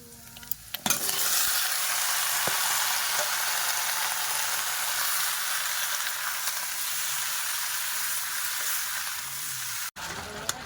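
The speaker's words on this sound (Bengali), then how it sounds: "পেঁয়াজগুলো লাল লাল করে ভাজা হয়ে গেছে" Onions fry in hot oil in a pan, giving off a dense, steady sizzle with occasional stirring scrapes. The sizzle is moderately quiet and cuts off briefly near the end.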